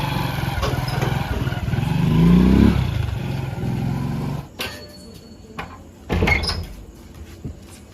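A motorbike engine runs close by, a rough rumble that builds to a rev and then drops away, followed by a few sharp knocks and clatters in a quieter outdoor setting.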